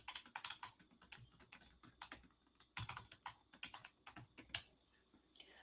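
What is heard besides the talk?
typing on a computer keyboard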